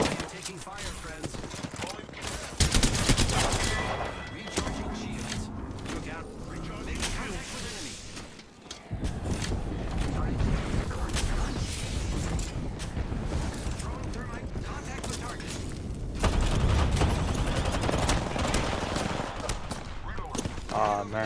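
Gunfire fills a match of the battle royale shooter Apex Legends Season 9 on PS5, with near-constant rapid bursts and machine-gun rattles that pause briefly before starting again, under intermittent talking.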